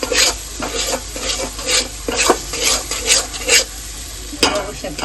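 Masala paste fries and is stirred in hot oil for spicy village-style mutton rassa, with a steady close sizzle broken by repeated scraping strokes of a spoon against the pan.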